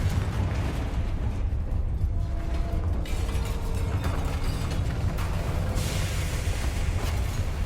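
Confringo fire-blast spell explosions in Hogwarts Legacy give dense, loud rumbling bursts and crackling debris, with a heavy low roar throughout and fresh blasts breaking in around three and six seconds.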